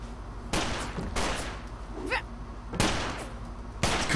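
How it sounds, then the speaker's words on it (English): Gunfire in the action game Wet, loud sharp bursts repeating roughly every second over a constant background of game music and noise, with a brief squeal partway through. "Rootin' and the tootin' and the shooting."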